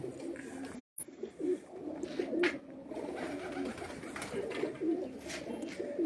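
Many pigeons cooing at a pigeon sale point, a dense, continuous chorus of low murmuring coos close by, with faint chirps and background bustle and no clear speech.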